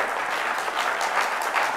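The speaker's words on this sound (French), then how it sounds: "Nous allons applaudir pour toutes ces pépites-là" Steady applause from a television studio audience after startup pitches to a jury, dense continuous clapping filling the whole stretch.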